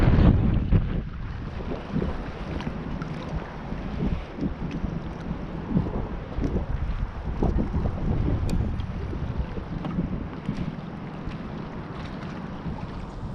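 Strong, gusting wind roars across the microphone on open water while fishing for crappie in 40 mph gusts, with a broad, steady buffeting rumble and surging peaks throughout.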